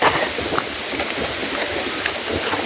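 Rain falling steadily outdoors in Pili, Camarines Sur, a dense broadband patter that stays fairly loud and even across the short stretch, with no voices over it.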